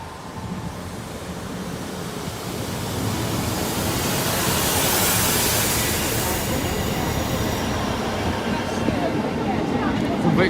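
East Midlands Railway passenger train led by a former South West Trains unit, running a Liverpool Lime Street to Peterborough service, with a steady broadband rumble and rush of wheels and air that swells slightly and holds, close by.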